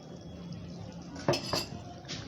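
A spoon stirs a beef casserole in a pot after coconut milk is added, giving two distinct scraping clinks over a low steady background hiss, close and moderately loud.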